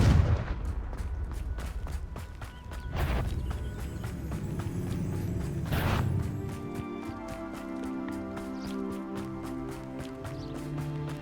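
Confringo fire spell blasts in Hogwarts Legacy: booming impacts land at the start and twice more at a steady spacing, followed by a fading, rattling rumble.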